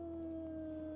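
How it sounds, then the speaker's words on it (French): Sustained howl from a dog in the survival video game HumanitZ, a steady tonal wail holding one pitch with a strong overtone, loud and unbroken for about a second. "Oh non, pas un chien."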